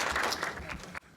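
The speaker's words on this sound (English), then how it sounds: "why don't we have a round of applause for" An audience applauds at an evening talk, a dense burst of clapping filling the room for about a second before it cuts off abruptly.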